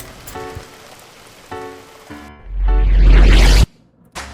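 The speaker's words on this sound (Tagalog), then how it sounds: "Hala, umuulan na." Storm rain falls during a flooding downpour, a steady hiss of drops that swells into a loud, dense roar for about a second before cutting off, with tonal background sounds before and after.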